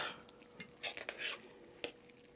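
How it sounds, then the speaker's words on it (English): Chicken scarpariello sauce stirred in a pan with a spoon: a few soft, quick scrapes and clinks over a faint background, with no talking. "So I'm going to stir this up."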